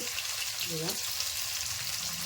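Crushed garlic and onions sautéing in oil for a lake fish curry, a soft continuous sizzle with a brief faint tonal sound partway through.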